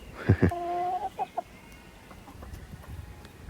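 A hen gives a few loud, close clucks and a drawn-out squawk, then a couple of shorter clucks before fading into quiet background.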